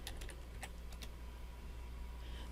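A computer keyboard is tapped with a few quick, light keystrokes in a short cluster, followed by two more isolated taps, close but quiet over a low hum.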